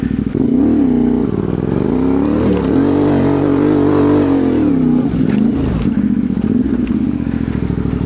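A CF Moto 450 MT adventure motorcycle climbs the rutted Razorback Fire Trail in Kroombit Tops National Park, its engine droning loud and close throughout, rising and falling in pitch as the throttle is worked, with rattles from the rough ground.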